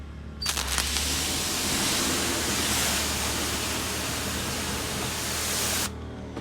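A pressure sprayer hisses steadily as it rinses pre-wash foam soap off a car, starting and stopping abruptly, loud and close with no talk.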